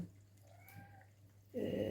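A street cat gives a short, faint meow outdoors while being fed salami and dry food. A brief louder splash or rustle follows.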